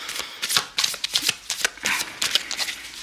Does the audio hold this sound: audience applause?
no